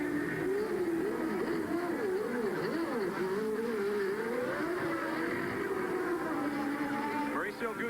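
Formula One March racing car with a Judd engine pulling away from the pits at the 1989 Brazilian Grand Prix, a continuous revving engine drone whose pitch wavers and climbs, heard under steady commentary.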